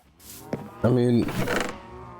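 A cow in the Minecraft video game gives a single drawn-out moo near the middle, with faint scraping sounds around it.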